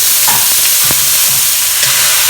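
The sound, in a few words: shiitake and shimeji mushrooms frying in pan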